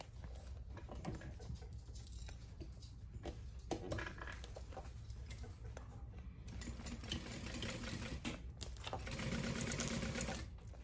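Sewing machine stitching reinforcement on a crossbody bag runs in a quiet, steady mechanical patter, pausing briefly and resuming, with faint rhythmic clatter throughout.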